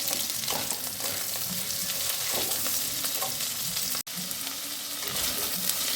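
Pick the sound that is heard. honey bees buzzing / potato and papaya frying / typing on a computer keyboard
potato and papaya frying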